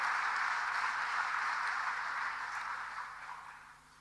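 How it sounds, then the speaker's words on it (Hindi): Applause from an audience at a government software launch event in Bhopal, a steady broadband wash of clapping that holds for several seconds and then gradually fades. "एक बार इसके लिए जोरदार जरा ताली बजा करके स्वागत करें।"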